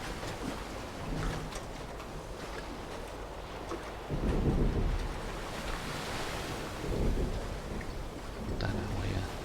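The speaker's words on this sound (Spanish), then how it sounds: "O es como agua. Qué raro el sonido, Julián." Waves of water in the game Dear Esther, a continuous rolling surf wash with swells rising and falling, mixed with wind-like noise and occasional faint talk.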